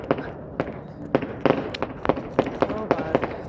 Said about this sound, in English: The fireworks are really loud.